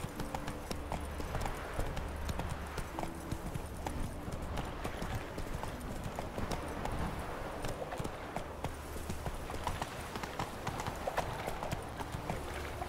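Horse hooves clip-clop steadily and up close throughout while riding in The Witcher 3: Wild Hunt, a continuous rhythmic trot over a constant ambient bed with no voices.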